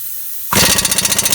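An impact wrench fitted with an 18 mm socket hammers loose a brake bolt on a 2002–2009 Chevy Trailblazer 4.2L hub. It starts abruptly after a short quiet lead-in, then a loud, rapid rattling burst continues to the end.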